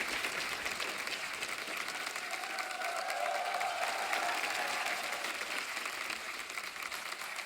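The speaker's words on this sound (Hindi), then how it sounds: "जोरदार तालियां हो जाएगा" A studio audience on The Kapil Sharma Show applauds arriving guests, a loud, sustained roar of clapping from a large crowd that holds steady throughout, with faint cheers mixed in.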